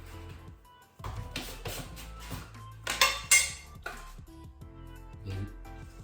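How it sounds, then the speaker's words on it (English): A scoop of protein shake powder goes into a bowl of oats amid close clinks and knocks of a utensil against the bowl, with several louder clatters in the middle. "Then I'll put the scoop of shake in."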